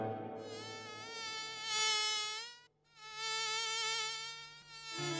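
Mosquitoes buzz loudly and close in a steady high-pitched whine, continuous for several seconds with one short break in the middle.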